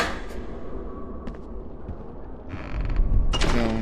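A large castle door in the Harry Potter PS1 video game creaks open with a loud, drawn-out groan, followed by a heavier mechanical rumble and thud near the end.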